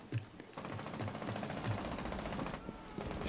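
Rapid bursts of automatic rifle fire in Rainbow Six Siege, quick rhythmic shots heard somewhat distant and fairly quiet under background game noise, with no talking over them.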